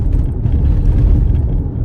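Truck engine belching black exhaust smoke, a loud continuous low rumble held close for a couple of seconds, with no speech over it.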